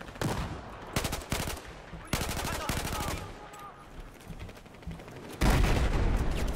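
Bursts of automatic gunfire from the video game Battlefield 4, loud, rapid rattling volleys broken by short pauses and ending in a heavier blast. Faint game sounds fill the gaps.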